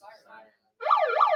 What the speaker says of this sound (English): Siren? Anyone pick that up?